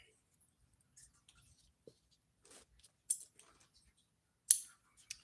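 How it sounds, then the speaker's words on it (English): Scissors make a few sparse, quiet snips while cutting equal pieces of yarn for a hand-knit wall hanging's fringe, with soft handling sounds between the cuts. "So I'm just going to cut out some equal pieces."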